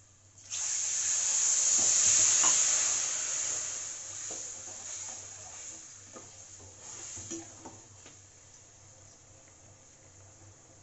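Lemon juice hits hot rice in a pan for lemon rice and erupts into a loud, bright sizzle that peaks in the first seconds and then slowly fades to a softer crackle.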